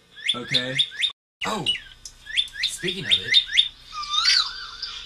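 A bird call ringtone plays from a phone in an office, bright repeated chirps and tweets coming in bursts, close and fairly loud, with people briefly talking between and over it.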